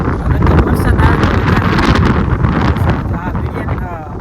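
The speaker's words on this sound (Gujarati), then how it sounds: "પવનના કારણે મારે વિડીયો આખો બગડી જાય છે." Strong wind buffets the microphone outdoors, producing loud continuous low rumbling and gusting roar throughout, with a voice speaking faintly underneath.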